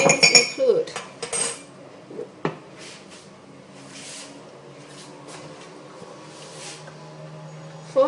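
A spoon mixing dry mug cake ingredients in a mug, with quick rapid clinks at the start, then a few scattered taps and a quieter stretch with faint movement.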